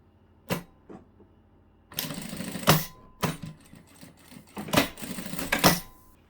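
A sewing machine stitches the bottom corner of a cosmetic bag's lining closed in several short, close bursts of clattering stitching separated by brief pauses.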